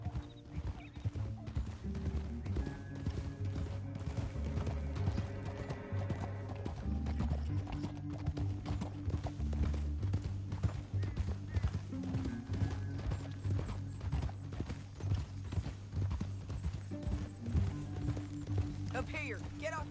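Horses' hooves drum in a steady galloping clip-clop through a Red Dead Redemption 2 canyon ride, with a whinny, under continuous game music and ambience.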